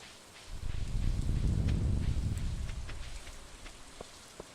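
Rain falling in the farming video game Stardew Valley, a steady soft patter that swells in the middle and eases off, with a few faint clicks near the end.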